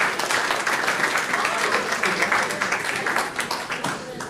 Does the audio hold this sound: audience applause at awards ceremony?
yes